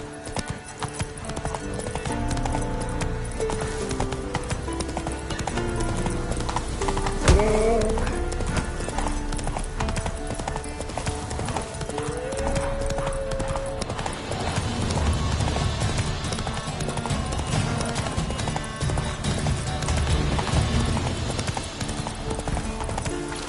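Roach the horse gallops in The Witcher 3, with rapid rhythmic hoof clip-clops running throughout over game music and ambience, plus a brief whinny partway through.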